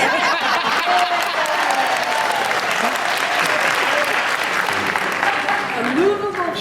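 Sustained applause from a podcast audience, dense steady clapping filling the room at a constant level throughout, with faint voices and chuckles mixed underneath.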